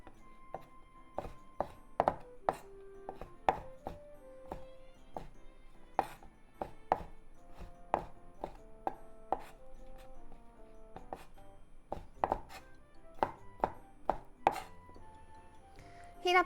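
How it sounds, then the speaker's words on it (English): A knife chopping bell pepper into diagonal strips on a cutting board, with irregular knocks and thuds close by, under quiet background music. "Cut them into half. Then diagonal strips."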